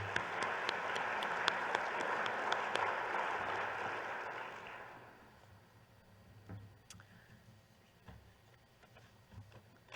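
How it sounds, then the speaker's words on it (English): An audience at an awards luncheon claps in a dense, even burst for about five seconds, then the applause fades to scattered claps and quiet room noise. "So please help me give both of these donors a big round of applause."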